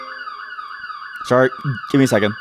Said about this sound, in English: That's my phone alarm.